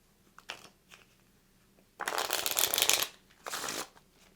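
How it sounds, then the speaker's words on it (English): Decks of playing cards shuffled by players setting up the Poker Assault card game: a few short riffles, then a longer close, crisp burst of flicking cards and a final shorter shuffle, with no talk. "Each player is also going to shuffle up each of their decks separately."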